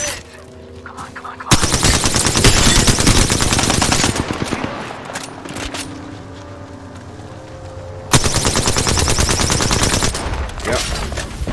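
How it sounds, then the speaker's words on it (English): Sustained automatic gunfire in Apex Legends during a ranked match, with loud rapid bursts that start and stop, then resume after a short lull, dense and close throughout. "Opening fire on the enemy."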